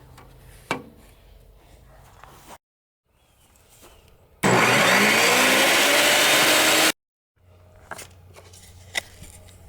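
A power saw cuts through a wooden board for a trivet, a loud steady whine lasting a couple of seconds between quieter workshop handling noises.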